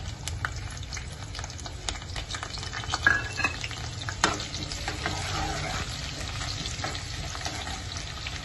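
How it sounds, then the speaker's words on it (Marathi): Onion frying in a pan for a mutton curry, a constant close sizzle broken by occasional spoon scrapes and stirring knocks, with no voices. "कांदा फ्राय होईल त्याच्यामध्ये"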